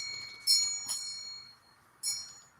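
Bright, ringing bell-like tones come in two distinct bursts over faint background noise, fairly clear and close, with no speech over them.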